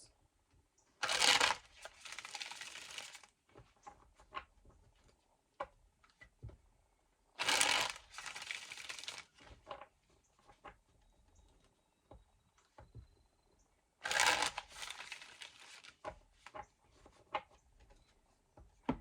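A deck of cards is riffle-shuffled three times, each a brief, crisp burst, separated by quiet taps and clicks of handling.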